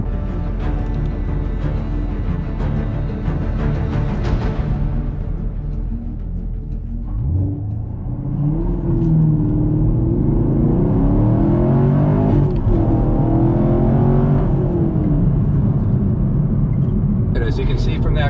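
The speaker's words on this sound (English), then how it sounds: "it was a pretty smooth launch, almost no wheel spin, if any at all, and banged the gear pretty good." 2018 Camaro SS 1LE accelerating hard in a 0-60 run, a loud engine roar rising in pitch with a gear change midway, then climbing again; someone talks over it.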